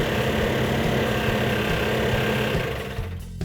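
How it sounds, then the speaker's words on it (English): A Plymouth 'Cuda 340 V8 running rough on about six cylinders, a close, loud, uneven idle with lumpy low-frequency pulsing that fades slightly near the end. "it was running on about 6 cylinders"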